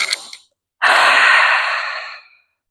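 Deep, conscious breathing: a brief soft breath, a short pause, then one long loud exhale close to the microphone that slowly fades, with no other sound.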